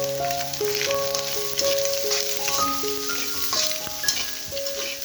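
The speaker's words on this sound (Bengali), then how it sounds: "এখন সমস্ত কিছু ভেজে নেব।" Mixed vegetables with grated carrot fry in a pan, a close, even sizzle with crackling spatters and scraping stirs throughout, while steady tones play in the background.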